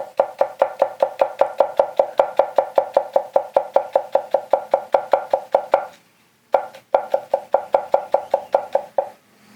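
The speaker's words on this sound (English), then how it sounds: "let's do some rock chopping on the white parts here too." Rapid, steady rock-chopping with a Kenshiro Hatono kitchen knife on the white parts of a vegetable on a cutting board: about thirty crisp, evenly spaced taps, a brief pause, then another quick run of chops, close and clear.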